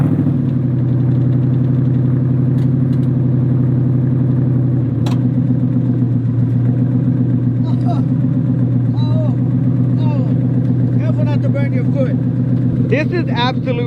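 A 600 HP Coyote V8 swapped into a Shelby Daytona rumbles at a loud, steady idle just after a cold start, with voices talking over it toward the end.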